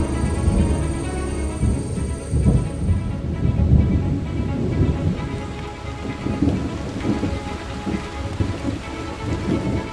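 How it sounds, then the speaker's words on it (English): Heavy rain pours steadily through an Amazon rainforest thunderstorm, with deep rolling thunder rumbling beneath it, loud and continuous with no voices. "In the Amazon, storms hit with a fury like few other places on Earth."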